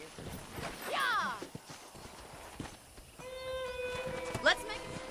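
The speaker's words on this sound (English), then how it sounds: "I picked out a fine horse for you." A horse's hooves clip-clop in the Red Dead Redemption video game, a short run of rhythmic hoofbeats near the start, then a whinny and tonal game sounds toward the end.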